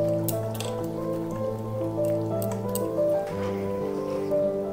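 Pieces of stinging catfish go one by one into a simmering tomato and potato gravy, wet squishy drops and splashes over a steady low hum of boiling, close and fairly loud.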